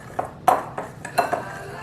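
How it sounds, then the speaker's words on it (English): A utensil scrapes and taps against a bowl while dry ingredients for hush puppy batter are mixed, making several light clinks and scrapes in an uneven rhythm, close and fairly faint. "I'm just going to move these dry ingredients together"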